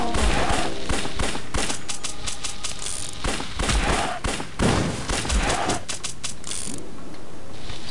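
Shotgun fire in a first-person video game, a dense run of loud sharp blasts and mechanical racking clatter that continues for several seconds, then thins out toward the end.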